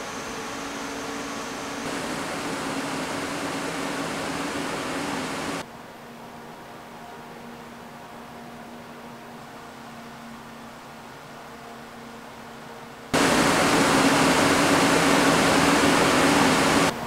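Lian Li UNI FAN AL120 V2 PC case fans run steadily, producing a smooth broadband whoosh with a faint tonal hum that shifts in loudness as the speed changes, quietest in the middle and loudest near the end.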